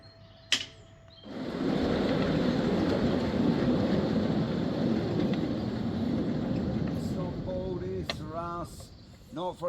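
A 5-inch gauge miniature railway train rumbles and clatters steadily along the track after a brief sharp click at the start, with faint chirps near the end.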